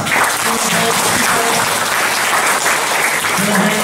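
Dense, steady audience applause at a hotel industry and tourism management professional development event, loud and continuous throughout with a faint voice underneath.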